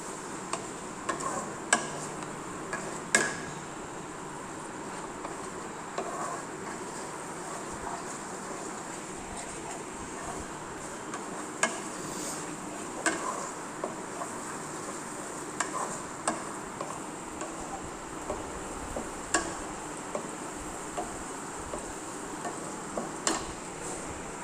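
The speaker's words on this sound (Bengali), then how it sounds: "দিয়ে এবার এটাকে ভালো করে এবার নাড়বো।" Chowmein is stirred in a pan with Maggi masala. A spatula gives faint, scattered scrapes and ticks over a soft, steady sizzle, with no talk.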